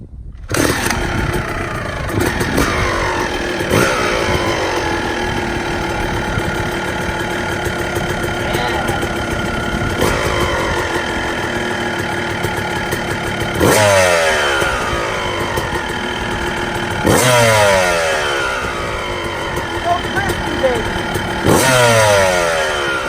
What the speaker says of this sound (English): We're gonna kick it over.